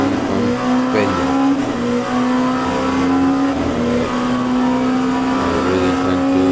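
Race car engine in the Le Mans Ultimate sim racing game, a loud, steady high-revving drone held throughout with slight pitch shifts as the car accelerates and shifts gears.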